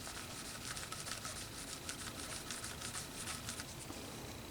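Micro mesh pads rub a lacquer gloss finish in a quick, even series of soft back-and-forth strokes, faint and close, with a light hiss underneath.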